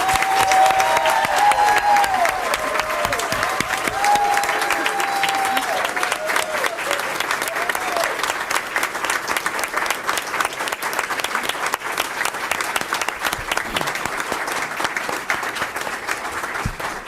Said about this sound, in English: Please join me in a round of applause for Superintendent Dr. Whitney Oakley.